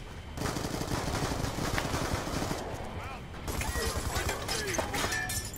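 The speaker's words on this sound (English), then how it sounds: "Who's shooting me?" Continuous rapid-fire gunfire in a Call of Duty Black Ops II multiplayer match, with loud, dense automatic bursts and sharp cracks running almost without a break.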